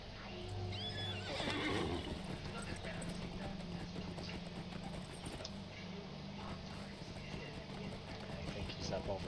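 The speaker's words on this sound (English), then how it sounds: "Probably need another horse ride." A horse neighs and its hooves clip-clop in a steady run in the Lord of the Rings Online video game, a whinny near the start followed by continuous galloping under a busy game soundscape.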